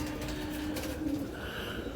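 Pigeons cooing softly against steady background noise, a low continuous murmur from a flock kept for the hobby of flying birds.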